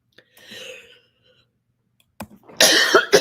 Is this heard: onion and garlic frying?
no